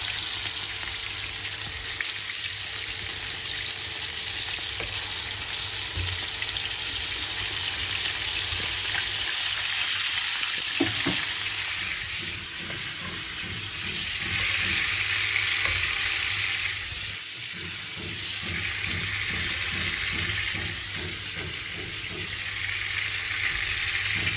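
Food fries hard in a pan, a loud dense sizzle running continuously with occasional stirring clatter and swells of hiss, no voices.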